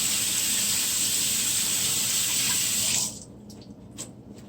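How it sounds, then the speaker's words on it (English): A kitchen tap runs steadily while hands are washed under it, a bright close hiss of water that stops abruptly after about three seconds, leaving a few faint drips and clinks. "Let me wash my hands."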